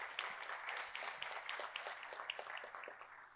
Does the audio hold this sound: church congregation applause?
yes